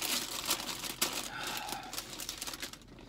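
Sandwich wrapper crinkled and torn open up close, a dense run of papery crackles and rustles for about three seconds before fading.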